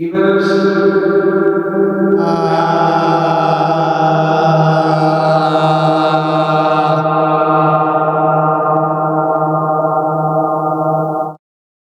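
A sustained guitar chord through an effects pedal rings out with a huge, washy reverb tail that swells and lingers for several seconds before stopping abruptly.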